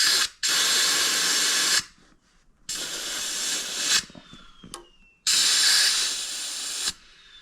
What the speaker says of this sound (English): I'm just going to blow some air in there just to make sure that it's clean.